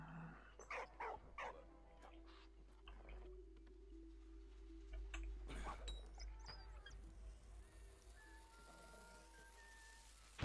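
A dog in a video game, Valiant Hearts, gives a few barks and soft whimpers among clicky game effects and a low steady hum, fairly quiet and close.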